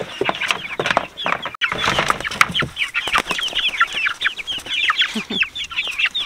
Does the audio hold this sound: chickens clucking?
yes